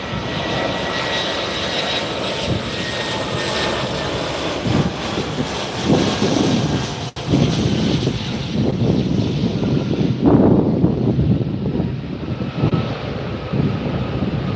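A Finnair airliner arriving at LAX airport, heard from beside the runway as a steady, loud jet roar mixed with gusty wind buffeting the microphone, with no voices.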